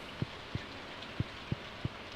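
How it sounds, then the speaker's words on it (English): Steady rain in the farming video game Stardew Valley, a soft continuous hiss under a regular series of faint low thumps, with no talk. "We got a rainy day."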